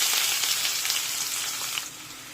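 Cumin seeds sizzle and crackle in hot oil in a home kitchen pan, a steady bright frying hiss with scattered pops throughout that eases slightly near the end.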